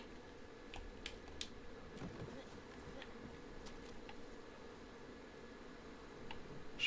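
Wasps in the video game Far Cry 5 give off a faint, steady insect buzz under low ambient noise, broken by scattered short clicks, with no speech.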